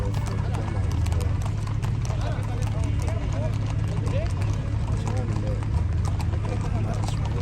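Several horses' hooves clop along at a steady trot over a low engine-like rumble, continuous and fairly loud.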